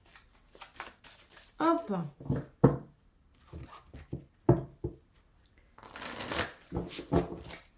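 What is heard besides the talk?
shuffling tarot cards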